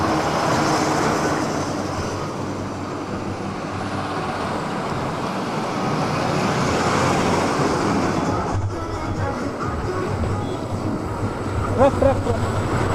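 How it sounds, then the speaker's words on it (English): A truck passes along a village road, a steady rumbling roar that builds and then eases, blended with general traffic noise. "Truck."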